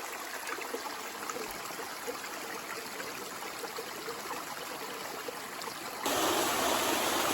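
Mountain stream on the Appalachian Trail near Mount Madison, a steady rushing and splashing of water flowing nearby, continuous throughout and rising louder near the end.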